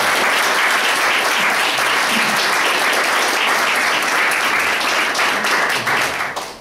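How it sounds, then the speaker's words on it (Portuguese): Loud, sustained clapping from the audience at a fraternal meeting of a charitable association, a dense even wash of applause that continues throughout and fades slightly at the close. "Eu queria um aplauso para outra Maria"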